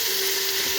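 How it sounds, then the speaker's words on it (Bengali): Ivy gourd (kundri) frying crisp in a pan with onion and green chilli, a steady, close, bright sizzle with no break. "কুদলি ভাজা একটু কচকচি করে"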